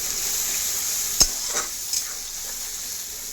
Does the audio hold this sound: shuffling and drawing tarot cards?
no